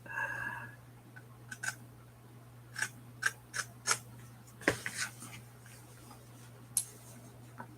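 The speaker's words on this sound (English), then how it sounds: "Actual scissors." Scissors snip paper during papercrafting for a junk journal, a series of short crisp cuts at an irregular pace, close and quiet over a steady low hum.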